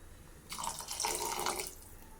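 Water poured into a pot of tamarind curry with small brinjals, a steady splashing pour of about a second that starts abruptly and trails off, close and clear with no talking.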